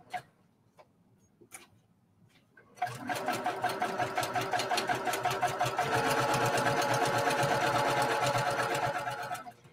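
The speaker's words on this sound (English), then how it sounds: "This machine just improved my accuracy of my stitching so much." A Pro Stitch sewing machine piecing quilt blocks: a few soft clicks, then a steady, rapid mechanical chatter of stitching running loud and close for several seconds before easing off.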